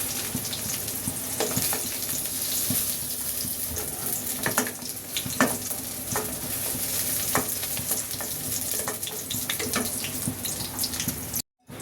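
Eggplant frying in a pan with a steady oily sizzle, broken by the scrape and clink of a spatula stirring and lifting the pieces, close and continuous, with a brief cut of silence near the end.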